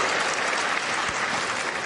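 Steady, dense applause from a tennis crowd at a professional match, sustained and fairly loud throughout with no pauses or voices.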